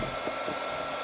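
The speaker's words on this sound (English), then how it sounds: "Simple bit of your heat tool and a little scraper, and it comes right off." A craft heat tool blows hot air steadily to soften leftover glue from a raffia bow on a decorative pumpkin, a constant close whooshing hum with no pauses or talk during the brief burst.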